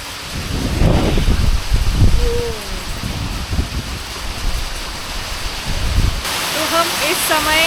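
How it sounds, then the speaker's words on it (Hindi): Heavy hail pounds down in a cold mountain village during a thunderstorm, a dense, loud, continuous roar with low rumbling bursts, while people speak briefly over it. "बहुत जोर से ओले गिर रहे हैं और थंडरस्टॉर्म भी हो रहा है"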